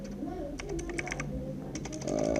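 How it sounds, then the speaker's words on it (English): Quick clicks of typing on a computer keyboard, a short irregular run of keystrokes, close and fairly quiet. "let me type here"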